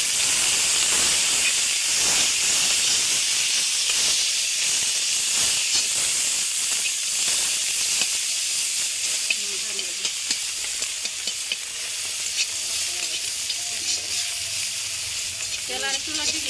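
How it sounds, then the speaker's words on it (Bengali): Onions frying in hot oil, with a loud, steady hiss and sizzle close by that keeps going throughout, broken by faint stirring scrapes, and no talking. "পেঁয়াজগুলো দিয়ে দিচ্ছি বন্ধুরা"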